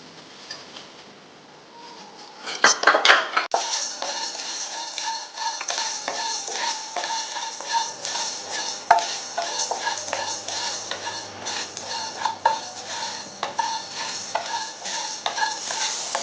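Whole spices dry-roasting in a pan for a Telangana-style chicken curry, with steady stirring scrapes and light metallic clinks against the pan running close and continuous, with a faint low crackle beneath.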